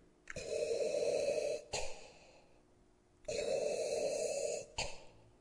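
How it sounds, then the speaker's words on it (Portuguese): Heavy, raspy breathing from a Star Wars series, The Acolyte: two long harsh inhale-exhale cycles, loud and close, each ending in a sharp catch. "a respiração ofegante dela acaba lembrando muito outra respiração ofegante famosa também da franquia"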